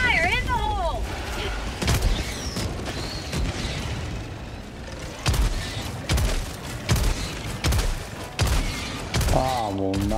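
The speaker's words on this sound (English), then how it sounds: "Firing orbital strike." Orbital strike bombardment in the video game Helldivers 2: a string of heavy booming blasts lands in rapid succession, loud and close, mixed with in-game voice chatter and effects.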